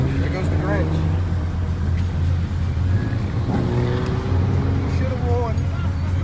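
A ZL1 car drives past at a car show put on by police: a steady low engine rumble with a faint rising rev, heard at moderate distance under people chatting nearby.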